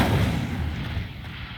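Incendio fire spell cast in Hogwarts Legacy, a deep booming blast with a roaring whoosh that trails off over a second and a half.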